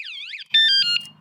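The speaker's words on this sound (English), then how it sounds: "it's going to alarm, and it's super loud" A Ride1Up Cafe Cruiser electric bike's anti-theft alarm warbles loudly up and down, then switches to a harsh, blaring pulsed tone, close and piercing.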